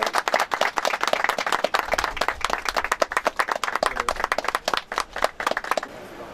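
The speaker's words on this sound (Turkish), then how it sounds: "Bir alkış." A crowd claps at a hill-climb race event, steady brisk applause with distinct individual hand claps, fairly close and loud, continuing for several seconds before stopping abruptly.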